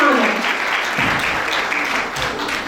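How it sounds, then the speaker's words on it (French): Loud audience applause at a French-language presentation event, dense sustained clapping from a full room that continues steadily throughout. "je vous invite à applaudir Hegel pour l'encourager"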